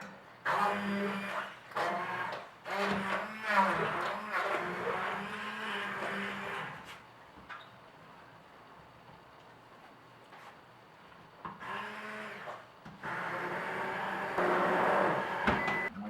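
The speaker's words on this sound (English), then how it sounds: "We're going to hit it with an immersion blender." An immersion blender whirs loudly through a yellow bell pepper and potato soup in several bursts, pausing briefly between runs, with a quieter stretch of low rumbling in the middle.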